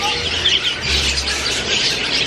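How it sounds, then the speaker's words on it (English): Budgerigars and African lovebirds in an aviary make dense, continuous high chirping and chattering throughout, steady and fairly loud. "We got tons of lovebirds, African lovebirds here. Cockatiels up there."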